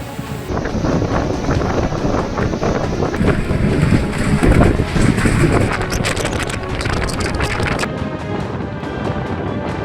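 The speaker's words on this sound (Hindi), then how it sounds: "तेज हवाएं चल रही हैं कि जो रेत है वो सीधे आंखों में या मुंह में जा रही है" Strong cyclone winds during Cyclone Biparjoy on the Gujarat coast, blowing sand amid rain, roar as a loud, steady broadband gust noise buffeting the microphone throughout, with no voices.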